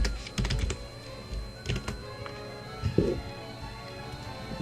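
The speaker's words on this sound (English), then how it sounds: "It's hard for me to type because my microphone is right in my way" Typing on a computer keyboard while entering soap recipe notes in software, heard as scattered clusters of close key taps with pauses between bursts.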